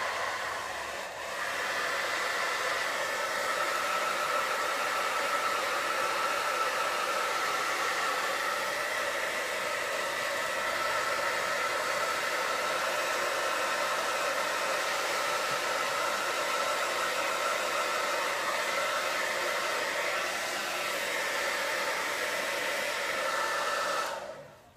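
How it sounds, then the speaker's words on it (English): A hair dryer runs steadily for the whole stretch, a loud, even blowing roar used to dry a ceramic piece, close by with no talk over it. "We're going to take the hairdryer."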